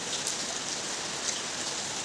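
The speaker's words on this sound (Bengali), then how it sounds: "এত জোরে বৃষ্টি হচ্ছে এই দেখো আবার বৃষ্টিটা জোরে নামছে" Heavy rain pours steadily onto a balcony, a dense, even wash of hiss that stays constant and close throughout, with no voices.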